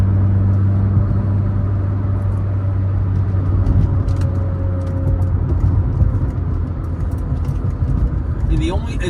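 A 1986 Mercedes-Benz 190E-16V, bone stock, being driven, heard from inside as a steady low engine and road rumble that stays loud throughout, with someone talking over it.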